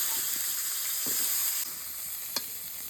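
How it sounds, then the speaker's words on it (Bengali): Potatoes fry in hot oil, giving a loud, close, continuous bright sizzle with a few faint pops and one sharp tap, the hiss easing slightly partway through. "ওই তেলে আলুগুলো ভেজে নেব"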